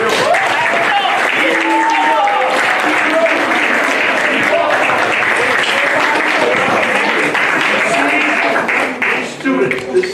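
An audience at a summer camp graduation breaks into loud, sustained applause that lasts the whole stretch, with cheers and voices mixed through the clapping before it thins slightly at the end.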